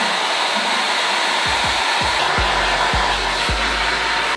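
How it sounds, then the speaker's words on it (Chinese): Hair dryer blowing warm air through hair, a loud continuous whooshing roar close by, with a few low thumps as the hair is handled, no talking. "记得风口一定要由上往下这样去吹头发"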